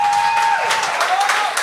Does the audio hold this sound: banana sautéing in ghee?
no